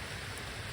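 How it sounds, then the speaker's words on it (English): Rain falling outdoors near beehives, a dense, steady hiss of drops across the whole short moment with no voices. "Well, I thought that was wind, but it's actually rain."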